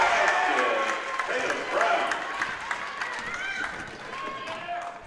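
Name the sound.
crowd cheering at a girls' basketball game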